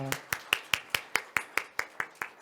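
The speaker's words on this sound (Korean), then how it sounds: "우리 박수로 환영하겠습니다" Clapping in a church service to welcome newcomers, heard as about a dozen sharp, evenly spaced claps at a steady rhythm, fairly close and moderately loud, with a brief voice at the start.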